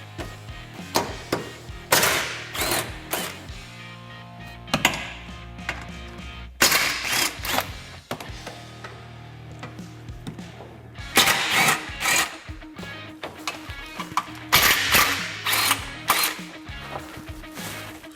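A power tool runs in short, loud bursts with pauses between them while removing 10mm bolts from a Honda Talon frame, close up and with no one talking.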